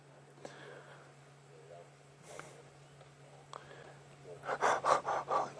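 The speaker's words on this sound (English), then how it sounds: "See that heavy panting, even though the temperature has dropped quite a few degrees already." Heavy, rhythmic panting from a big cat full of meat on a cooling evening safari, building into several loud breaths near the end over a faint steady hum.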